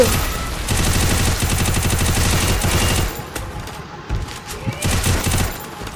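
Rapid gunfire in a zombie hunt video game mod, loud bursts of machine-gun fire for the first three seconds, then quieter scattered shots and a final short burst.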